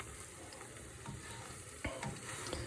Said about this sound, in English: And I just stir it constantly and often.